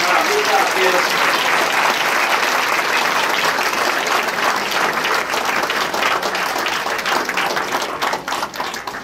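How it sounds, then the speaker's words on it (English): Full audience applause for children at a school board meeting, loud and sustained, thinning toward the end as individual claps become audible. "Let's give them another round of applause."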